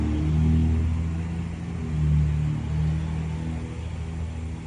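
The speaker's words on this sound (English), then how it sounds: "you can see my neighbor in his loud truck. Let's give him a minute to pass" A loud pickup truck drives past on a residential street, its low engine rumble swelling and easing as it passes, steady and fairly close, with no voices.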